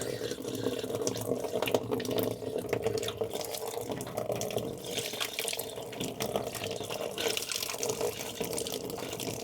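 Water gushes steadily from the drain valve of a home water heater, released to relieve tank pressure, a continuous hissing splash that holds at an even level throughout with no voices.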